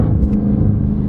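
Deep, loud rumbling of a straight-piped V8 exhaust on an Audi S6 idling close by, a throaty low burble that stays steady throughout.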